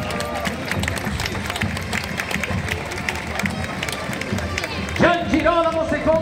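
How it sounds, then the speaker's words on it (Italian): A street crowd at a historical costume parade, the Cavalcata Storica, applauds the duke and his noblewoman with scattered clapping under an announcer's voice over a public address system, rising louder near the end. "Messeri, Madonne, un forte applauso al duca e alla sua nobildonna!"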